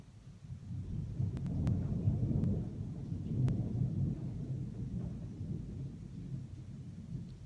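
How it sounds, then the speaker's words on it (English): Deep rolling thunder rumbles steadily for several seconds, with a few faint sharp crackles near the start and soft rain in the background. "the thunder just shook the windows"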